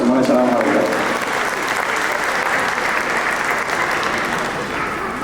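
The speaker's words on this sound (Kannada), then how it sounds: "ಶಿವಾಜ್ಮನಿಯ ಮತ್ತೆ ಅವ್ರ ತಂಡದಕ್ಕೆ ಒಂದು ಚಪ್ಪಾಳೆ ಬರಲಿ" An audience at a Ganesh Chaturthi cultural program claps loudly and continuously, a dense wash of applause that holds for several seconds with a voice briefly heard over its start.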